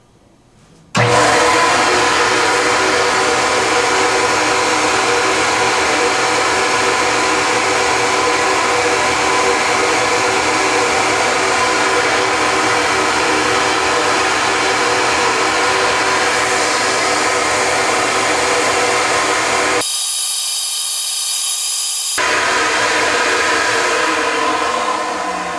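A flow bench pulls air hard through an X Ram intake manifold at 450 thousandths valve lift, a loud steady rushing roar that starts abruptly, holds, then briefly drops out before resuming.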